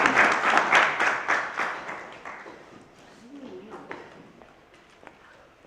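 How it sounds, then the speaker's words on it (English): An audience at a school science debate bursts into loud applause that slowly fades over several seconds into scattered claps, with a voice speaking over the tail end. "Let's give them another round of applause."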